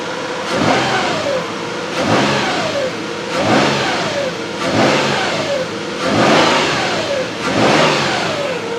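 A car with a random misfire and lack of power, revved repeatedly in bursts, about five rising engine sweeps that fall back between them, loud and close with no talk.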